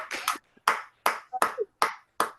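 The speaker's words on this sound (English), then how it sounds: "Ladies, I want you to give yourself a round of applause." A handful of separate hand claps ring out with short gaps between them at a book launch, thin and fairly quiet rather than a full crowd's applause.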